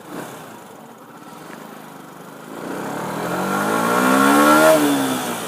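Yamaha R125 motorcycle engine revving: a low idle that climbs midway into a rising, loud mechanical whine, then eases slightly at the end, heard close with no talk.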